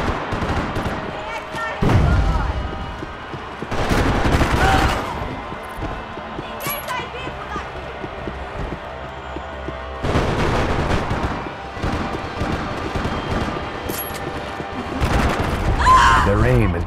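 Video game gunfire, with heavy bursts of shots and booming impacts coming in clusters under steady talk from a player throughout.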